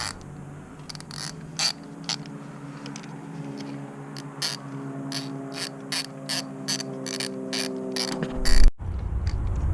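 Close mechanical clicking and ratcheting as a part is tightened during installation of TRQ ignition coils in an engine bay, a steady run of sharp ticks over a low hum, ending in a brief louder clunk.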